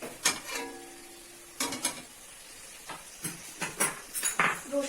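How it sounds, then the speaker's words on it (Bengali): Chicken kosha curry stirred in a pan over medium flame, a spatula scraping and knocking against the metal in irregular bursts with a soft sizzle between, fairly quiet and close. "একটু নেড়ে"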